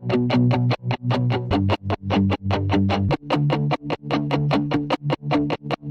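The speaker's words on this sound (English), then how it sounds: "Muted guitar." A distorted, palm-muted electric guitar part in a melodic rock-electronic remix, playing rapid chugging chords in a tight rhythmic pattern with short gaps, loud and upfront, with no voices.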